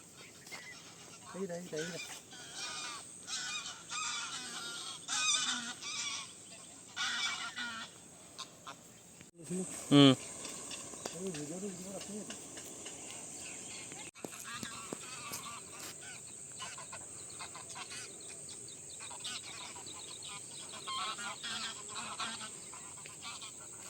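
Geese honk and call in scattered bursts over a quiet background, with one sharp loud cry partway through.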